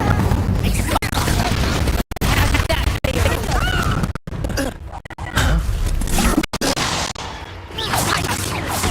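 Spell effects from the Hogwarts Legacy video game during a duel as the Incendio fire spell is cast: loud whooshes, bursts and impact crashes in quick succession, mixed with grunts and shouted game dialogue.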